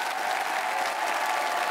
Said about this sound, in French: Merci beaucoup, on peut l'applaudir, franchement.